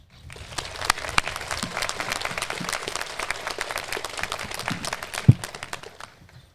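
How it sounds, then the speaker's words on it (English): Audience applause at a college commencement ceremony, a dense, even wash of many hands clapping that rises quickly and holds steady for several seconds before tapering off, with one loud thump near the end. "Please help me by thanking them with an applause."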